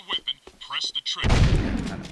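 Voices talk briefly, then a weapon in the Jak and Daxter video game fires one loud, booming shot whose rumbling tail lingers.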